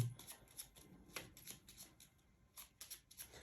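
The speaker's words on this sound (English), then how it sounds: "So shuffle the discard first, and then scout" A deck of cards is shuffled for a Lord of the Rings: Journeys in Middle-earth board game, a series of quick riffling bursts and soft taps in uneven rhythm, close and quiet with no talking.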